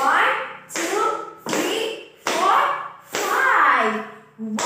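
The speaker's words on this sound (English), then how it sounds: "Let's give another 5 claps." A class of children claps five times in an elementary classroom, each burst of taps falling in time with young voices counting aloud, with short gaps between the five steady rounds.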